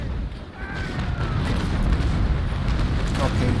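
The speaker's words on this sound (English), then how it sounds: "this is a broadside exchange, which is really not that favorable for me" A sailing warship in the video game Naval Action fires a cannon broadside, making a loud rolling boom of many guns that sustains as a heavy rumble, with a voice talking faintly underneath.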